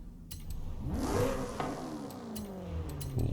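A car engine revs in the video game Forza Horizon 5, its tone climbing and holding in a steady, throaty drone, close and continuous, with no voices.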